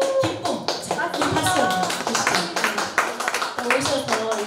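Audience at a poetry recital clapping together, a dense burst of close applause lasting a few seconds with voices talking over it.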